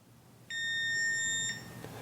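A Kwikset Halo Touch smart lock rejects an unenrolled fingerprint with a single steady electronic beep lasting about a second, clear against a quiet room.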